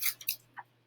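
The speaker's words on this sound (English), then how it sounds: "we're just cutting all the way around the outside and gluing the whole thing down" Scissors cutting paper up close, two quick crisp snips followed by a softer third, faint and brief with a low steady hum behind.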